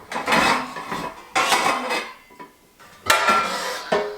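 Metal pans clatter and scrape as they are picked up and set down in a home kitchen, three distinct bursts of clanking cookware separated by short pauses, close and fairly loud.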